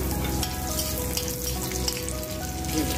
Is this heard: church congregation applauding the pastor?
no